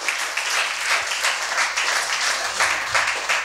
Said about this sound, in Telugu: చప్పట్లు కొడతాం ఒకసారి